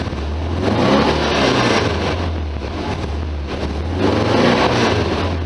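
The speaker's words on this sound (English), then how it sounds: "let's rev it up here now that the timing's a little bit better" A 1973 VW Super Beetle air-cooled engine revs steadily after a timing adjustment, a loud continuous low rumble that swells, eases and swells again near the microphone, with no talk.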